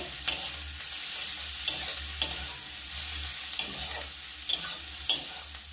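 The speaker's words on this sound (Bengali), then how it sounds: "রসুনটাও ভাজা হচ্ছে।" Garlic paste and onions sizzling in a pan, with a constant frying hiss and repeated scraping strokes of stirring at a near, steady pace, no voices.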